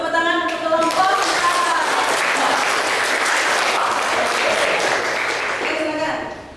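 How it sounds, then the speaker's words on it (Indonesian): A classroom of students claps for a presenting group, a loud, even burst of applause lasting several seconds before trailing off, with a voice briefly over the start. "Beri tepuk tangan untuk kelompok 4."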